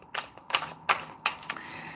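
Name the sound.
shuffling tarot cards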